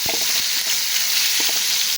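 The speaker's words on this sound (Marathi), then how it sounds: "हे बघा छान अशी मोहरी आपली तडतडली चांगली" Mustard seeds crackle and pop in hot oil for a tadka with turmeric, a steady broadband sizzle running throughout, with a few sharper pops near the start and again partway through.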